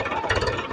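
A tractor engine runs steadily while pulling wire for a transmission tower line outdoors, giving a continuous, close, moderately loud rumble with slight rhythmic knocking.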